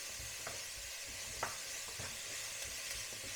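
Lentils and carrots sizzle steadily in a hot pot while a utensil stirs, giving a few soft scraping knocks over the constant close frying hiss.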